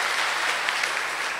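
At a Tamil-language gathering, a Coimbatore Nagarathar association diamond jubilee event, a hall audience claps in a short, steady burst. The applause is uniform and fairly close.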